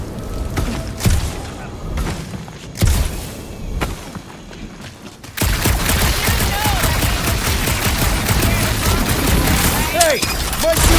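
Rapid gunfire bursts in the Marvel's Guardians of the Galaxy video game, sparse loud shots at first, then dense, continuous firing with a steady clatter, with game voices talking over it.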